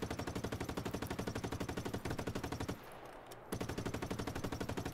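Rapid automatic gunfire in the Just Cause video game, loud, close, and steady, breaks off for about a second mid-burst and then resumes at the same fast rate.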